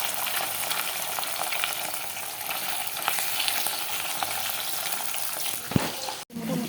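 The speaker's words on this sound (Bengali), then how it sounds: "এখন এখানে পাবদা মাছটা আমি দিব। তেল হয়ে গেছে, যে পাবদা মাছটা দিয়ে দেবো।" Pabda fish frying in hot oil with mustard paste nearby: a dense, continuous sizzle crackles close up, with a brief clatter near the end and a sudden dropout just after.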